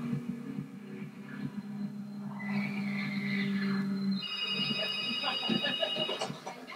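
A telephone rings with a steady electronic tone over a low hum and soft heartbeat pulsing, from the opening of the film Scream VI, fairly quiet, with no voices.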